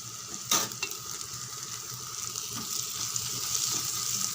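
Sambar masala with chili powder fries in a pan, giving a soft, continuous sizzle with a few scraping stirs of a spoon, close by and with no talking.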